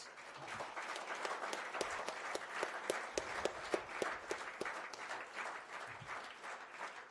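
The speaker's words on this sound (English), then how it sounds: "let's please give him a round of applause" Sparse round of applause at a swimming award ceremony, individual claps distinct and fairly quiet, a small audience clapping at an uneven rhythm for several seconds with no talking over it.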